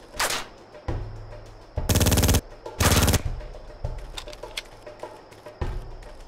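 Video game gunfire from the game Made Man, a gangster firing from a window: loud bursts of automatic fire and single shots crack close by in short rapid volleys.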